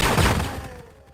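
Weapon fire in Turok Evolution, a game arsenal including a shotgun, flamethrower and minigun: a rapid burst of shots with heavy low thumps that fades into a quieter tail.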